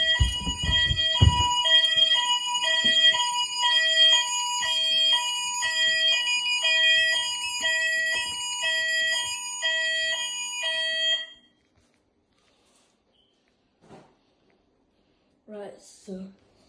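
An EMS Smartcell wireless fire alarm sounds during a weekly test, a loud, steady two-tone warble that repeats for about eleven seconds and then cuts off. Brief handling noises and faint movement follow in the quiet.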